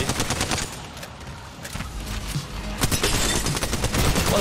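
Sustained bursts of automatic gunfire in Apex Legends, dense and loud throughout, with overlapping shots from near and farther away.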